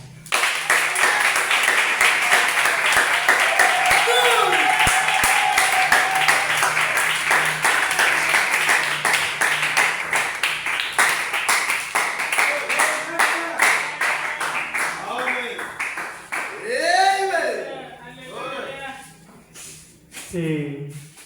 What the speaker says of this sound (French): J'aimerais appeler le pasteur Luc sur vos applaudissements.